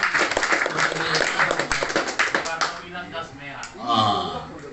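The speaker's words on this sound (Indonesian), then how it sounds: "Tepuk tangan coba." Audience clapping at an organisation's board inauguration ceremony, a dense burst of hand claps in the first half that thins out, with voices talking over the tail end.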